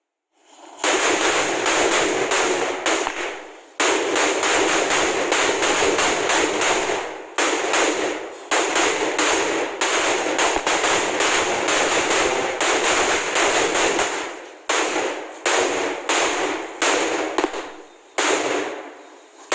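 Country firecrackers (nattu vedi) in a long string burst in rapid, loud cracking volleys, with several short gaps before the popping resumes, and no talk over it.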